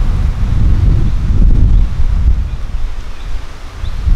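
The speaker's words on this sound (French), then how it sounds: "On a beaucoup de vent." Strong wind buffets the microphone in a constant low roar, with rustling in the background and no voices.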